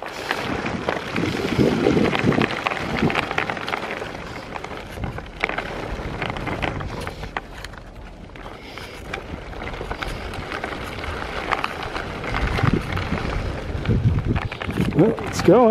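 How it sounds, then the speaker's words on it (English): A 12-wheeled mountainboard rolls along a trail with a continuous rough, gritty rumble, close and fairly loud, mixed with wind buffeting the microphone while a person talks over it. "This wheel on the left is a little funny sounding, but it's not a problem."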